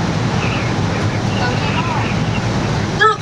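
Strong storm wind roars steadily beside the Myrtle Beach Sky Wheel, a constant broadband rush buffeting the microphone with a brief louder gust near the end.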